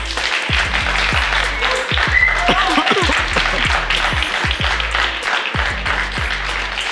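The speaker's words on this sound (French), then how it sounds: "Ça mérite une pluie d'applaudissements." Studio audience applause on a French talk-show interview: a dense, steady wash of clapping that fills the whole stretch at a strong level, with some low thudding beneath.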